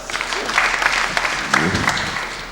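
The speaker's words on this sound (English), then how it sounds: "please give him a hand clap" An audience at a debate tournament claps for a judge, a dense burst of hand claps with a few louder individual claps and faint voices mixed in.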